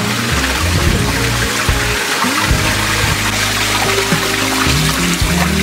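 Running tap water splashes and trickles over fresh strawberries being rinsed in a rural home kitchen, a close, continuous stream with shifting gurgles and small bursts as the berries are handled.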